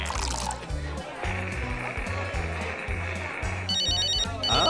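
A cartoon telephone rings in an animated episode about insects, a short burst of electronic trilling near the end over busy background music and rhythmic low thumps.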